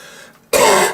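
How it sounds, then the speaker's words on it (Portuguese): A single short, sharp cough or throat clearing from a man close to the microphone in a quiet room, lasting under half a second. "A tosse."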